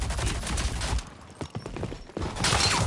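Gunfire in the video game Rogue Company, rapid bursts of shots in quick succession with a short lull in the middle before firing resumes.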